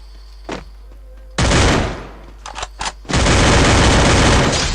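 Gunfire in a shooting video game: loud, close bursts of rapid automatic fire, a sustained volley, a few short shots, then another long continuous burst.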